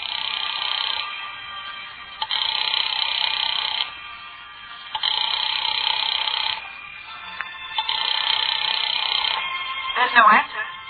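Telephone ringing in a radio drama, an old-style electric bell repeating in long bursts with short pauses between, fairly clear and up front, ending with a brief clatter.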